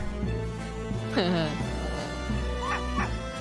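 Cartoonish dog barks and yips from the Professor Layton vs Phoenix Wright video game, a few short calls over continuous game music and talking.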